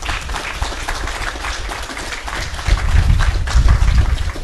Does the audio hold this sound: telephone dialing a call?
no